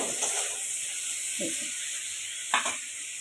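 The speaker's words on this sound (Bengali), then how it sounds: "পেঁয়াজগুলোকে আমি কিন্তু সতে করে নিচ্ছি" Salted onions sauté in a pan for chilli chicken with a continuous bright sizzle, broken by a couple of brief spoon scrapes or clinks.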